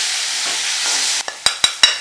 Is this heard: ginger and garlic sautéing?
yes